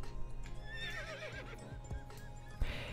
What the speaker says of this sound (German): wir schauen uns mal an, wie das Pferd steigt